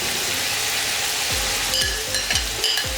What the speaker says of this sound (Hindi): इसको अच्छे से भून लेंगे